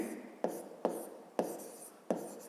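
A pen writes notes by hand on paper in short, quiet strokes, with four distinct scratches, each fading before the next, recorded close.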